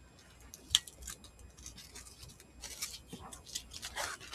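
Scissors snipping through handmade faux mulberry floral paper during a papercraft project, a sharp close cut followed by softer scattered snips and paper rustles, quiet and alone.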